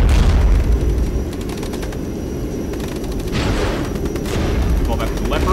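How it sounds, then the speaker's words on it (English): Cluster bombs burst in a war video game set against Russian forces in the Pripyat swamps, a loud continuous barrage of rapid overlapping booms and crackling blasts with deep rumble throughout. "I'd like at least to drop the cluster bombs first"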